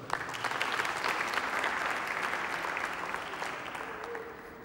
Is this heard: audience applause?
yes